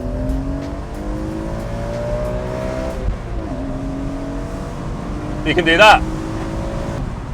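A BMW E46 M3 Convertible straight-six engine drones and rises in pitch as it revs, dropping and climbing again, with a short remark spoken over the engine noise.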